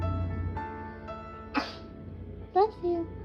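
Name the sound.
sneeze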